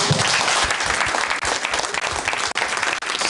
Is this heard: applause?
yes